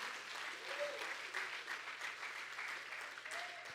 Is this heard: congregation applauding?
yes